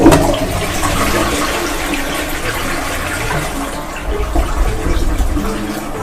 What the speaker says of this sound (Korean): 변기물 내려가는 소리입니다.